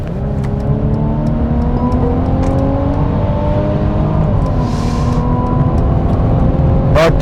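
A new Mercedes E-Class with EQ Boost driven in sport mode, its engine giving a steady loud drone with rising whine as it accelerates, heard from inside the cabin with no talk.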